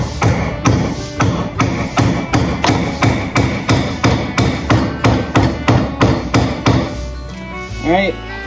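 Steady hammer blows tapping a shim into a hickory axe handle fitted to a restored vintage axe head, about two strikes per second, close and sharp, with a brief ringing pause at the end.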